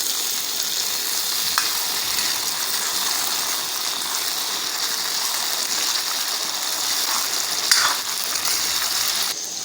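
Chopped tomatoes and green chilies frying with golden onions in a kadai for a mutton and bitter gourd curry, giving a steady, even sizzle throughout with a couple of faint clinks of stirring.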